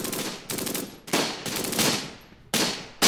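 Bursts of machine gun fire from a WWII strategy game battle, several sharp broadband volleys in quick succession with brief gaps, loud and close, no voices.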